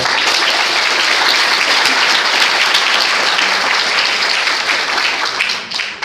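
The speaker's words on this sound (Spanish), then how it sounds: "Vamos a dar un aplauso a Vilma, por favor." A live audience breaks into sustained, dense applause, loud and steady throughout before tapering slightly near the end, with no talking over it.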